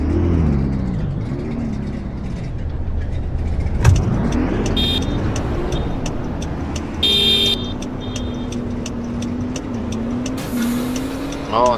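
A car in a Roblox roleplay game drives with a steady synthetic engine drone that rises and shifts pitch, with occasional clicks and tones over it, heard close with no talking.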